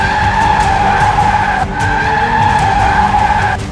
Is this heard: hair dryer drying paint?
no